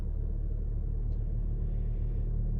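A 2023 Toyota Corolla with a CVT hums along in a steady, low, muffled rumble, even and continuous with no change in pitch and no voices.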